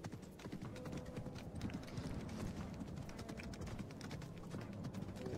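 Horse hooves clip-clop in a video game, a rapid, steady run of loud hoofbeats that lasts from start to finish with no talking.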